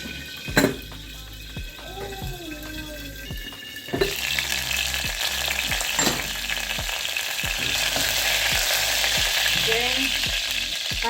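Coriander roots frying in oil in a pan, a steady sizzle that jumps louder partway through, with the clack and scrape of a utensil stirring at intervals.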